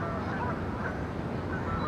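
A flock of geese honks continuously, forming a dense, busy layer of overlapping calls at steady loudness, with no talking.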